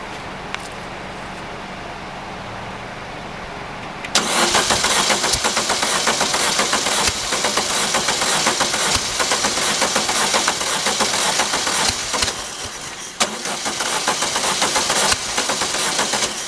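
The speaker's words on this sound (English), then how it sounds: "I'm going to loop it on top of the carburetor" A dune buggy engine fed straight through its carburetor: a faint low hum, then the engine catches abruptly and runs loud and rough, with a brief dip before revving on steadily.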